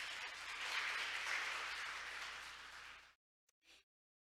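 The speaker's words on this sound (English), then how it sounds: "Let's give Mr. Bellini another big round of applause." A conference audience at a maritime industry event gives a speaker a round of applause, dense and steady for about three seconds before cutting off abruptly, followed by two short faint sounds in near silence.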